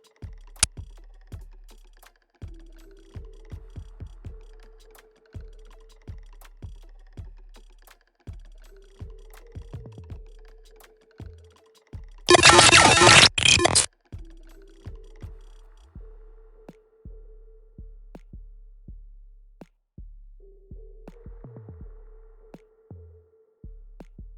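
A brief burst of harsh digital glitch noise cuts in midway, surrounded by steady rapid clicking and ticking like keyboard typing.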